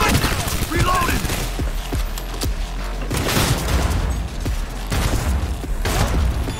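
Shotgun blasts in the Cyberpunk 2077 video game, loud booming shots repeating amid dense combat noise and mechanical clatter, with a voice talking over parts of the action.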